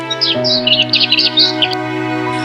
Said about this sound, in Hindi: सुबह यहाँ चिड़ियों की चहचहाहट से शुरू होती